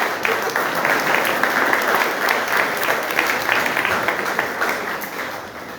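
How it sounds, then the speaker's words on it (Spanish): A church congregation applauds steadily and loudly, a dense, even wash of clapping that holds without a break. "Un aplauso"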